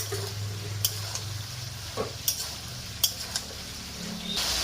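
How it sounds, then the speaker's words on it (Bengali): Bottle gourd greens with hilsa fish pieces being stirred and sautéed in a pan, with a low steady sizzle, a few sharp utensil scrapes and clinks spread through, fairly quiet and close, no talking. "মাঝে ঢাকনা খুলে কিছুক্ষণ কষে নেব।"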